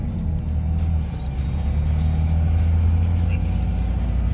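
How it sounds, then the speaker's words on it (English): A car engine runs loud and close with a steady low rumble that climbs slightly as it is revved, holding throughout without pauses. "just rev her up again. Like higher."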